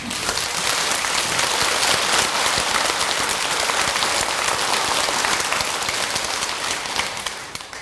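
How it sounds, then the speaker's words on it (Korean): A temple audience at a Sunday dharma talk claps together in dense, sustained applause that holds evenly for several seconds and then starts to thin at the very end. "박수 한번 쳐볼까요?"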